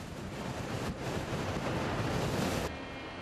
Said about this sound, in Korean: 오늘따라 바람이 제법 분다.